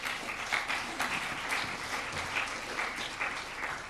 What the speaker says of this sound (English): Please, a round of applause for our panellists.